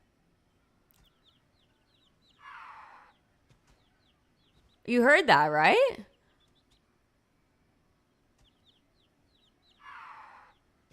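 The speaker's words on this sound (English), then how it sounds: "you can hear the little babies chirping as well" Chicks of Kevin, the bird from an Up event in the Disney Magic Kingdoms mobile game, chirp in two short, faint bursts well apart. A voice speaks briefly between them.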